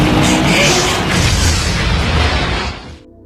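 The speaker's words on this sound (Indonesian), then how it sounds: "Skeng melihat T-Bird meledak bersama mobilnya yang terjun ke air." A film-scene car blows up after a bomb is planted and the vehicle plunges toward water, a loud, sustained roaring blast with crackling debris that cuts out abruptly after about three seconds.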